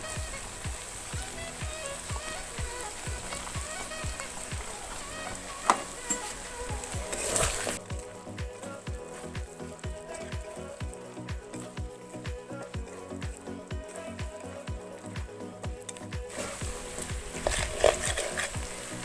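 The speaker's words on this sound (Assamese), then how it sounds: "আৰু এইখিনি এতিয়া মই ভালদৰে 15 মিনিট সময় ভাজি ল'ম।" Red chili and cumin powder fry in a hot pan, giving a steady, soft sizzle with light scraping and stirring throughout and a few faint clinks.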